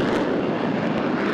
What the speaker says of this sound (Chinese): 轰隆隆的引擎声震耳欲聋